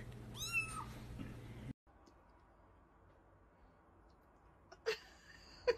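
A cat gives a short series of close meows near the start, with a couple of brief faint cries near the end over quiet room background.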